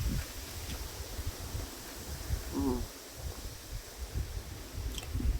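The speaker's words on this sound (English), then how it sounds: "I hope you can hear me. It's very windy." Steady outdoor wind gusting and buffeting against the microphone, a continuous rushing roar with low rumbling surges, no speech heard.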